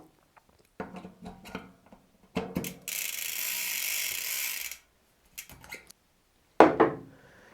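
Bicycle freehub clicking as the cassette turns during a cassette change, short bursts of metallic ratcheting with clinks of tools between them and a steady hiss in the middle.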